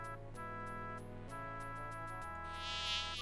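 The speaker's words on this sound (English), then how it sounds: "A loud buzzing draws your attention to a small window." Loud buzzing of a large insect at a small window in the PC game Death Gate, a steady drone over tonal game music, with a few brief sharp accents and a swelling whine near the end.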